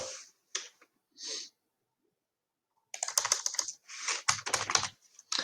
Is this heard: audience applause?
no